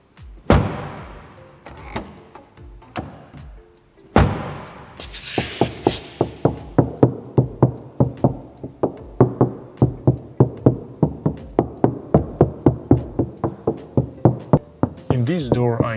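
Knuckles knock on a bare, undeadened Audi A4 door panel: a few scattered hollow raps at first, then a long steady run of ringing, resonant knocks, loud and close, with no talking.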